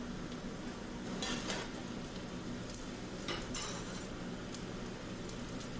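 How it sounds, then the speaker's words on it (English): Fresh green beans sauté in hot oil with a steady low sizzle, broken by a few brief clinks of a utensil stirring the pan, with no talk. "we're going to add in our fresh green beans. We want these to saute a bit in the oil as well"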